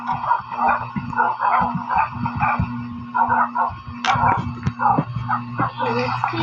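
Dog barks and yips from a video game repeat in a busy, rapid stream, moderately loud over a constant electronic background hum.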